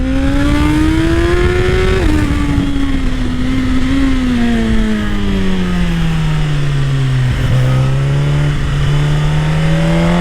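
A loud, close Suzuki GSX-R1000 sport motorcycle engine revs up and eases off, its droning pitch climbing, dipping and rising again without a break.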